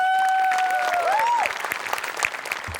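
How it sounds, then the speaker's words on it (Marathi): Studio audience applause for a comedy troupe on the Marathi sketch show Maharashtrachi HasyaJatra, entering after a sliding whistle-like tone and continuing as a steady, moderately loud patter of many hands. "या ओरिजिनॅलिटीसाठी आपल्या टीमसाठी एकदा टाळ्या वाजल्या"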